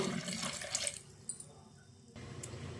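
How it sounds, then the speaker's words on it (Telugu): Water from a tap pours steadily into a cooking pot of peas, a close, continuous rushing splash that briefly drops off and then resumes, with no speech. "ఇదిగోండి వాటర్ పోసుకుంటున్నాను"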